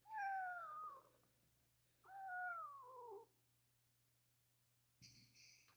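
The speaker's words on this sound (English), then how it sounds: "Cat." A cat gives two drawn-out meows that slide downward in pitch, separated by a short pause, followed by a brief, higher, sharper cry; the setting is otherwise quiet apart from a faint low hum.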